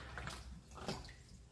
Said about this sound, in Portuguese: Vamos pôr mais água.